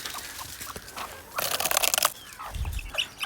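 Chickens being fed cluck and scratch nearby, with a burst of busy flapping and rustling in the middle before quieter clucking resumes.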